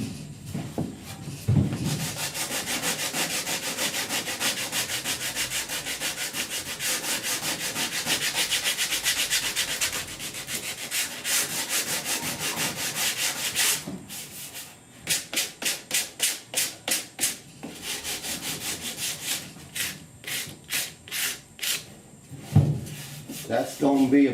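Body filler on a 1969 C10 inner roof rust repair is hand-sanded with folded 80 grit sandpaper, giving long steady scraping rubs and then a run of quick rhythmic back-and-forth strokes, close and clear, with a voice talking at points.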